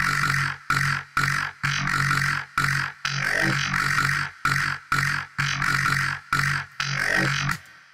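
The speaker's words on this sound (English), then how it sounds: "bright long verb preset in Ableton Live, which is one of my favorite reverb presets in Live" A vocal-derived alien bass sound from Ableton Live, bathed in the bright long verb reverb preset, plays as a choppy, rhythmic pattern of bright, buzzy bursts with short gaps between them, loud and alone.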